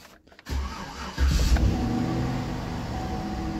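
A GM truck engine cranks and catches after an idle learn reset, with a short starter whir followed by a surge and then a steady mid-pitched idle running close by to the end.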